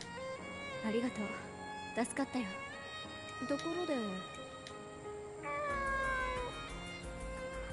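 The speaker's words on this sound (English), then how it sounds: "The cat appears out of nowhere." A cat meows several times in a video game, giving short rising and falling cries over a tonal music bed, with speech heard alongside them.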